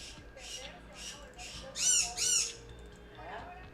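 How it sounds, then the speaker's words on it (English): A bird squawks in a room, a series of shrill, chirpy calls with two louder squawks in the middle, heard over a low steady background hum. "what is going on with the bird?"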